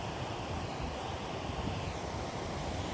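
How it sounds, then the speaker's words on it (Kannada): Kaveri river water released from the KRS dam flows past a village in a steady, loud broadband rush that holds unbroken for the whole stretch, with no voices over it. "ಇವಾಗ ಎಷ್ಟು ಸುಂದರವಾಗಿ ಹರಿತಾ ಇದೆ ನಮ್ಮ ಊರಿನ ಈ ನದಿ"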